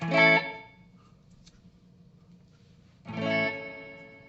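An electric guitar played through a Boss reverb pedal: two separate strummed chords, each ringing out and fading into a wash of reverberant tail, with a quiet gap between them and no talk.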